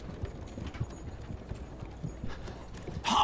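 Horse hooves clip-clop in The Witcher 3 video game, a steady rhythmic trot of fairly quiet, close hoofbeats, ending with a brighter louder burst of sound.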